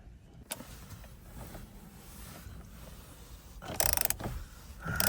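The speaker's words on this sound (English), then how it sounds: "Bolt is loosening." A tool loosening the steering wheel bolt on a C6 Corvette, a low mechanical grinding and rattle close by, ending in a short louder burst of fast ratcheting clicks, with no one talking.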